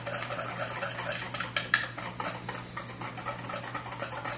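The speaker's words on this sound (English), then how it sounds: "3 tablespoons cornstarch with 1 cup of sugar and 1/4 teaspoon of allspice and cinnamon. Whisk that together." A whisk scrapes steadily through dry cornstarch, sugar, allspice and cinnamon in a bowl for an egg- and dairy-free cherry cobbler, a continuous close rustling swish with a faint low hum underneath and no talking.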